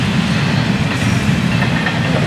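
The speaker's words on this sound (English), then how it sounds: "We will allow this train to get safely on by." Double-stack freight train rolling past close by, a steady loud rumble with rail clatter and continuous wheel noise throughout, no voices.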